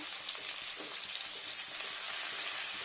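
Onion and ginger paste fry in oil in a pan, a dense, even crackling sizzle holding steady from start to finish with no voices over it.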